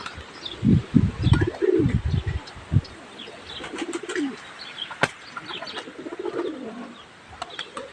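A pigeon coos and flutters its wings at close range in a few low, throaty bursts early on, followed by scattered faint chirps and rustles in a quiet space.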